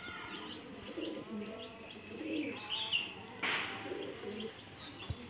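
Kotashi pigeons of an old original line, including a pure white bird, coo and call softly in a loft alongside faint chirps and a brief wing flutter, with background noise throughout.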